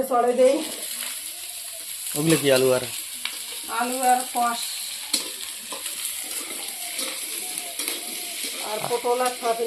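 Crushed garlic and panch phoron spices fry in hot oil for an aloo potol kosha, a steady close sizzle running throughout with a few stirring scrapes, while people talk over it.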